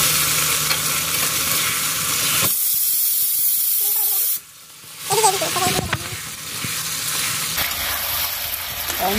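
Onions frying in oil in a kadai, a loud, steady close-up hiss and sizzle that drops away briefly, then returns with some scraping.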